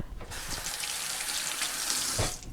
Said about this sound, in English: I'm gonna get a wash on my hands.